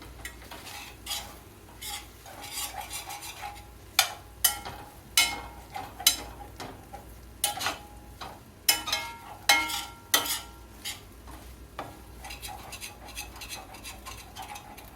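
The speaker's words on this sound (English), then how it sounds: "Let me give this a stir." A spoon scrapes and knocks around a skillet in uneven strokes over a low, faint sizzle of cooking food, the sharp taps clustering through the middle and thinning toward the end.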